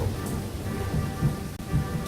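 Rain falls steadily at a tiny, deserted train station in the video game Lost Horizon, a soft continuous hiss with faint low rumbles.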